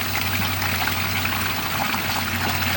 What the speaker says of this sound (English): you can see that that's how much water's coming out of there